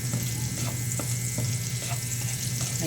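Garlic sautéing in a pan, a dense continuous sizzle with a steady low hum beneath it and faint periodic ticks and scrapes, close and even in loudness throughout, no voices.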